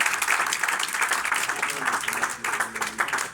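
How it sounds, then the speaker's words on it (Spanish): A church congregation breaks into sustained applause, a dense steady wash of clapping with some voices mixed in underneath. "Dele fuerte ese aplauso al Señor, hermano."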